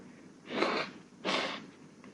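A person with a cold blows their nose twice, two short congested bursts about half a second apart, close and fairly quiet with no talk.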